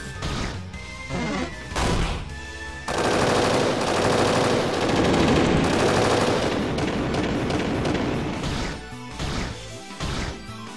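The Magic Missile spell in a Final Fantasy game fires off as a loud, rapid volley of sharp impacts and crashing bursts, with a dense stretch in the middle and choppier hits at the start and end.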